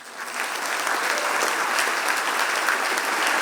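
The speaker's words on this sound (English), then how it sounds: "big, big round of applause" Loud, sustained applause from a large audience at a wildlife awards ceremony, dense and continuous with a brief swell at the start and no break, no voices over it.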